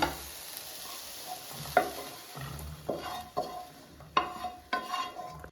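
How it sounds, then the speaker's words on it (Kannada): Cooked carrot, beans and capsicum are mixed in a pan for a pan pizza topping, with soft sizzling beneath a series of distinct spatula scrapes and clacks, close and fairly quiet. "ನಾವು ಇವಾಗ ಎಲ್ಲ ಹಾಕಿ ಮಿಕ್ಸ್ ಮಾಡ್ಕೊಬಿಡೋಣ."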